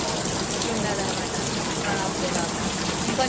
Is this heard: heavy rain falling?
yes